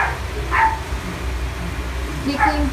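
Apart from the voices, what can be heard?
dog barking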